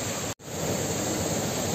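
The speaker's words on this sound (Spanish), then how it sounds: "Al fondo, una cascada que está cayendo allí en un charco precioso." A waterfall in the Arrobuey valley of Las Hurdes, Cáceres, pours into a pool at night, a steady, dense broadband roar with one brief dropout near the start.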